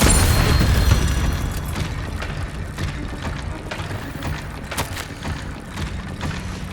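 A Confringo spell explosion in Hogwarts Legacy bursts loudly at the start, then trails off into a rumbling decay with crackling debris and scattered sharp pops.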